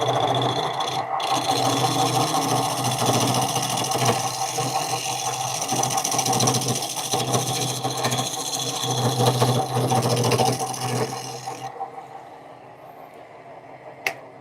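A wooden birdhouse being sanded as it spins on a lathe, giving a steady whirring drone with rough rubbing texture that runs on continuously before dropping away near the end.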